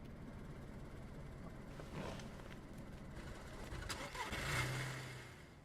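A heavy car drives in the DayZ video game, its engine rumbling low and steady throughout and swelling slightly near the end, with brief mid-range noise bursts over the drone.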